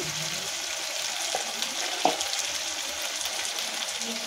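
Cumin and garlic paste fries in hot oil alongside drumsticks for a drumstick curry, giving a steady, even sizzle with a couple of faint utensil clicks.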